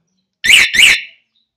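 A Yamaha motorcycle alarm system fitted on a Rouser 180 gives its unlock signal: two loud, close, tonal chirping beeps in quick succession, heard alone with no talking.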